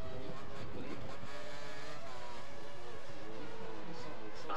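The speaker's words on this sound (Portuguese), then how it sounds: "o carro à frente está acelerando tudo e dando o máximo do motor" A Formula 1 race car in the F1 2013 video game at full throttle, its engine a loud, sustained high-pitched whine that climbs steadily without a break.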